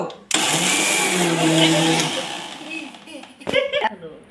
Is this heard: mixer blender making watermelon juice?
yes